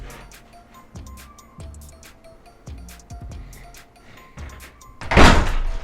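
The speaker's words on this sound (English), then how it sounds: "I tried it myself to close the door" A guesthouse door in Bukhara closes noisily, with a series of heavy thunks and rattles at roughly regular intervals, ending in a louder, broader slam-like burst.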